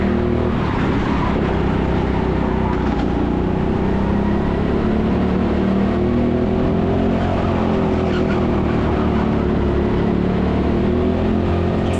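Go-kart engines race around the TeamSport Sheffield indoor circuit, a dense, continuous drone of several karts whose pitch rises and falls as they accelerate and brake, loud and steady throughout with no talking.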